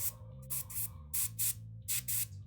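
An airbrush blows thinner through for cleaning, producing short bursts of soft hissing spray, about five pulses in an irregular rhythm, close and fairly quiet over a low background hum.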